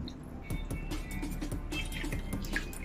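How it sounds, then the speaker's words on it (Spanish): A muslin cloth is rinsed in a small container of water, giving a quiet series of drips, splashes and trickles at an irregular rhythm, close and faint. "Estamos enjuagando acá la toallita de muselín en el trastecito."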